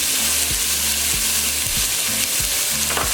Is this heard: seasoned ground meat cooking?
yes